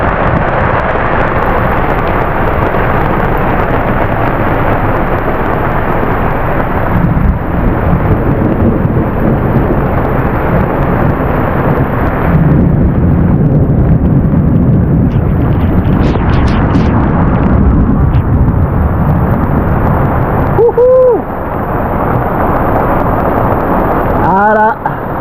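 Heavy rain drums steadily on a boat at anchor in the Bay of Villefranche during a thunderstorm, a dense, loud hiss with occasional creaks, and a voice speaks over it at times.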